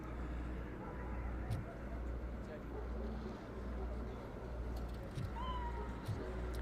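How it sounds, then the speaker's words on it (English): A cat meows a few times in the RoboCop: Rogue City video game, short faint calls set against a steady low game ambience hum. "Cats doing what cats do."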